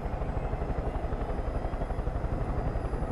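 A helicopter in the Far Cry 5 video game drones steadily with a dense, continuous rotor thump and engine roar, loud and close, filling the whole stretch without any talk.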